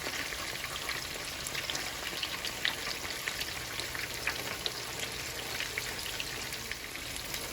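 Cheesy pork tacos dorados frying in oil over medium heat, giving a steady, close sizzle with dense crackling pops that carry on without a break and with no one talking.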